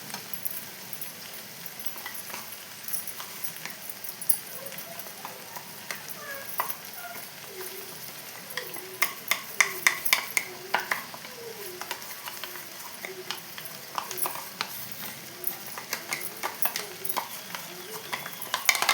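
Roasted ground peanuts are tossed and stirred into a frying ivy gourd stir-fry. A soft, steady sizzle sits under intermittent scraping and clattering of a spoon against the pan, growing busier and louder halfway through.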